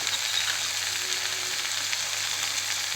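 Mushroom sukka fries in a pan with freshly ground pepper spice powder, giving a steady even sizzle at close range that runs unbroken with no talk.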